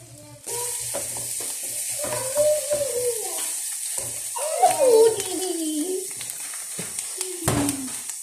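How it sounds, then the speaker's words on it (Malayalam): Onion, ginger, garlic, green chilli and curry leaves are sautéed in a pan until brown, giving a continuous near sizzle with intermittent stirring scrapes and clatters, while a voice is partly heard over it. "ഇതെല്ലാം നല്ലപോലെ ഒന്ന് വഴറ്റി ഒരു ബ്രൗൺ നിറമാകുന്ന വരെ ഒന്ന് മൂപ്പിച്ചെടുക്കുന്നുണ്ട്"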